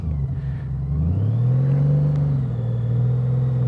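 A 2025 Honda Goldwing motorcycle engine hums steadily through a U-turn, a low, smooth rumble that swells slightly mid-turn and then settles, heard close and alone.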